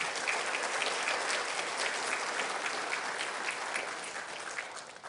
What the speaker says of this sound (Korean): 목사님에게 다시 한번 큰 박수 한번 보내주시면 좋겠습니다